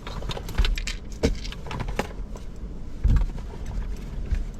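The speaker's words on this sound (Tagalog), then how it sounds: "Kalkalin ko nga itong bag ko. Ako'y naluluka. Asan ba yung susi natin?" Keys jangling and rattling as a hand rummages through a bag, with several sharp metallic clinks and a louder shake near the end, close and without talking.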